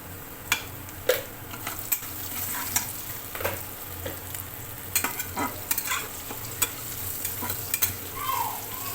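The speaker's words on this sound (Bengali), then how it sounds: "সব কিছু ভালোভাবে মেশানো হয়ে গেছে, নেড়ে চেড়ে ভালো করে ভেজে নিয়েছি, কষানো হয়ে গেছে।" Spices for a hotel-style vegetarian dal, with a pinch of sugar, stirred and fried in a pan: a steady low sizzle broken by repeated scraping strokes of the spoon, close and moderately loud, with no voices.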